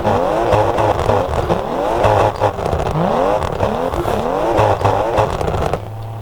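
A car drifting around roundabouts in Assetto Corsa, its engine droning and rising in repeated revving sweeps under a constant loud hum, close and continuous, briefly quieter at the end, with no talking.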